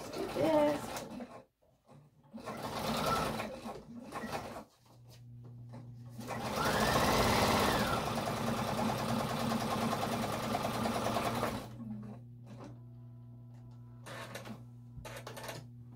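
Sewing machine stitching through a needle book greeting card in bursts of rapid mechanical whirring and clatter, close and fairly loud, with short pauses and a steady low hum between runs.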